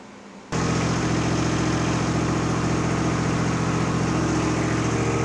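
A Massey Ferguson (Simplicity) riding mower engine with a newly welded exhaust starts and settles into a steady, even, quiet idle with a rhythmic low chug, close by and continuous.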